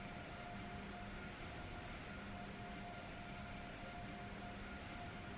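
A train running in Train Sim World 3 on the New York to Trenton line, a faint, steady rumbling drone with a thin high tone laid over the continuous rolling noise.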